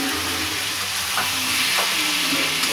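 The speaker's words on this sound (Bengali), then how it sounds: "এটা এবার আমি একটু ভালো করে কষবো" Chicken curry with coriander and chili powder sautéing in a pan, a loud, close, continuous sizzle with a couple of faint stirring scrapes.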